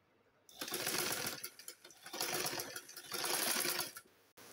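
A sewing machine gathers fabric into pleats for a kurti, running close in three sustained bursts of rapid stitching separated by brief pauses, with no talking.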